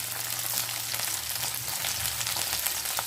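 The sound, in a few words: shallots and curry leaves sautéing in oil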